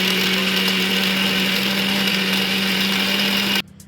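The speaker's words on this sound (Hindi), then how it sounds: "ठीक है बच्चों, मैंने इसको जार में डाल दिया है और अब मैं इसको ग्राइंड करूंगी" An electric mixer grinder whirs loudly and steadily, grinding poppy seeds, gond and makhana in its jar for about three and a half seconds before cutting off abruptly into near silence.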